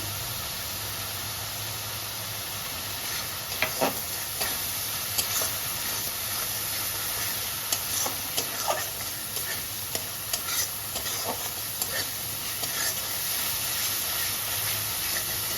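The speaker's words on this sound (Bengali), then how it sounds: "মশলাটা ভালো করে করতে হবে যাতে কাঁচা মশলার গন্ধ যেন না থাকে" Chilli powder, turmeric and other spices fry in oil for a pointed gourd and shrimp curry, making a constant hissing sizzle with scattered scraping stirs throughout.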